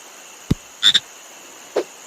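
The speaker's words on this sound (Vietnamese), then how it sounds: "Đây là ếch phi tiêu độc." A poison dart frog croaking, a few short separate calls, close and clear against a quiet background.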